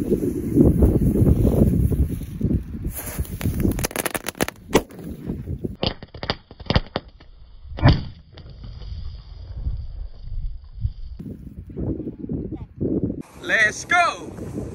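A paper-wrapped Roman candle firework burns outdoors amid strong wind rumble and people talking, with a cluster of sharp pops and crackles followed by scattered bangs and hissing bursts, moderately distant.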